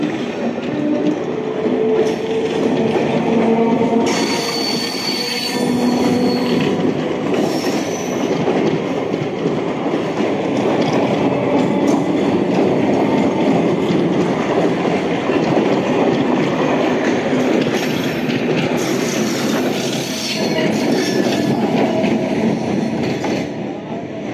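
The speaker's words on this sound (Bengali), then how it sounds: "ছেড়ে চলে যাচ্ছে তার পরবর্তী স্টেশন কলকাতার দিকে।" A passenger train pulls out of Patipukur station on the Kolkata circular rail line, heading toward Kolkata, with steady loud rumbling, rolling wheel noise and occasional squealing, close by and continuous throughout.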